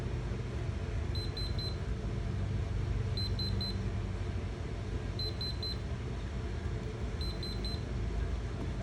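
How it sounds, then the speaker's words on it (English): A 2023 Grand Design RV camper trailer's control panel beeps in quick triple chirps repeated every two seconds, four times, clear over a steady background hum. "It's beeping."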